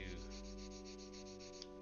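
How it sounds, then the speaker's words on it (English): A Gunpla plastic model part is sanded with steady, rhythmic rubbing strokes, close and quiet, over a constant electrical hum. "So we are working and sanding with that angle"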